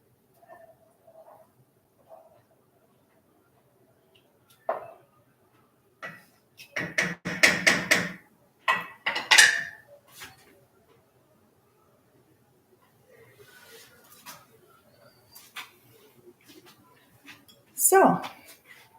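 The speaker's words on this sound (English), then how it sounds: "I'm going to stir this around just a little bit too while I'm here." A spoon stirring chili in a pot, heard as a few short bursts of scraping and clinking against the pot, close and moderately loud, separated by quiet pauses, with someone talking at times.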